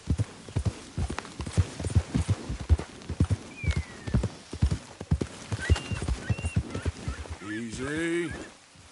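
Horse hooves clip-clopping in a brisk rhythm as a rider spurs the animal on in the video game Red Dead 2, close and clear, ending in a loud whinny.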